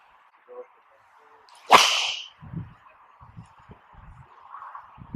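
A single sharp, bright crack of a Tour Edge Exotics EXS Pro golf driver striking the ball, loud and close, followed by a short swishing tail and faint low thuds.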